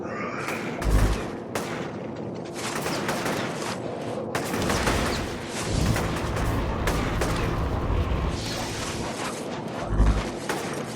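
Gunfire in the inFamous video game is aimed at a flying subject, with a dense fusillade of close, loud shots in repeated bursts and heavy booms scattered through it.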